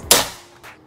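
One sharp, loud crack from a Predator Bocap Tactical PCP air rifle firing, followed by a brief decaying ring and a faint second click shortly after.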